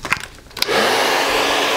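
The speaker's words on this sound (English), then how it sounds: "What I need to do is just re-blow dry this little front section right here" A hair dryer blow-drying the front section of short hair roars on steadily and close after a few brief handling knocks, holding a loud, even whoosh to the end.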